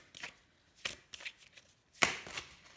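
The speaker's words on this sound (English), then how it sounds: "So I'm just going to draw 4 cards here." Tarot cards are shuffled and drawn by hand, making several quick papery riffles and slaps in short bursts, close and fairly soft, with no talking.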